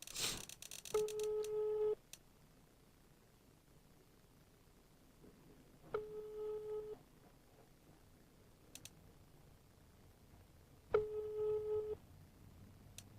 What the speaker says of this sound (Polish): Dlaczego nikt do mnie nie odbiera telefonu?